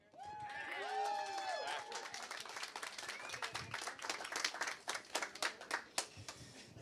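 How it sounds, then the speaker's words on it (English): Guests at a wedding reception break into a round of applause during the speeches, clapping that builds into scattered, uneven claps; a voice is heard talking at the start. "Let's have a round of applause for Pat."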